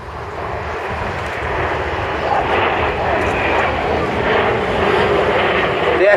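Red Arrows jets in a formation display at an air show, about 2,500 feet up at around 400 mph, producing a broad, loud rushing roar that grows stronger, with a voice talking underneath.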